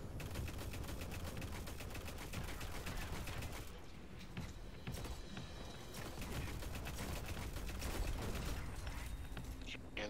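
Cannons fire in the video game Destiny: The Taken King as dense, rapid bursts of booming shots pile into a continuous barrage, loud and busy from start to finish.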